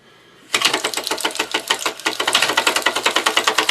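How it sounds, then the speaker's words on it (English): A playing card duct-taped to a bicycle fork flaps against the turning spokes. A sudden burst of rapid, even clicking starts close by and keeps up a fast, motor-like ratchet with no talk. "you duct tape your playing card onto these forks"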